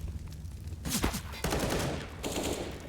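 Silenced pistol fire in Counter-Strike: Global Offensive during a professional match on the Train map, heard as dense, rapid bursts of muffled shots in two clusters over game ambience.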